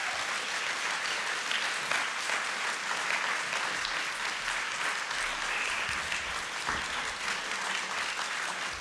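An audience gives steady, even applause to welcome a keynote speaker, a continuous wash of clapping heard at a moderate, somewhat distant level.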